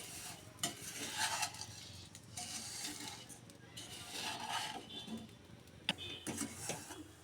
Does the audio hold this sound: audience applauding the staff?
no